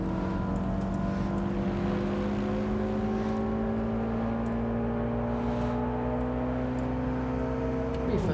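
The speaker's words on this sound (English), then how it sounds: "Pretty fast car." A fast car in Watch Dogs Legion drives through London, its engine holding a steady, sustained hum with a slowly gliding pitch, loud and continuous throughout.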